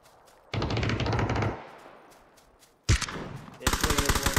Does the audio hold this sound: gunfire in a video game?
yes